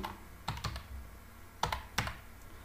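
Keys clack on a computer keyboard while an OTP code is entered on a government benefit website, a few quick separate taps in two short bursts, close and clear.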